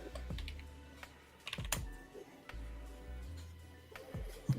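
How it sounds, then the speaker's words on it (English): Loud mechanical computer keyboard being typed on in bursts of clicky keystrokes, close to the microphone, with short pauses between runs and no voices. "I'm typing. Sorry, my keyboard's loud and my microphone is picking up practically everything now."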